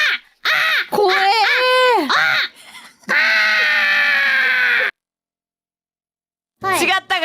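A voice imitates a crow's cawing with a run of loud, harsh, strained calls, a pause, then another short burst of cawing.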